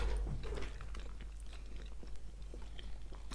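Close-up chewing of a Kinder Milk Slice, a soft sponge snack with a milk filling, with faint, soft, steady mouth sounds over a low background hum and no talking.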